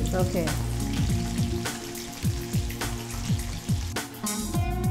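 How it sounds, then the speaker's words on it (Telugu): Chicken pieces frying in hot oil for chilli chicken, a continuous close crackling sizzle with popping bursts over a low hum and occasional clinks. "గోల్డెన్ బ్రౌన్ కలర్ వచ్చే వరకు దీన్ని మనం ఫ్రై చేసుకోవాలి."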